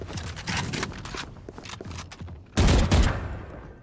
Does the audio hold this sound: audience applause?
no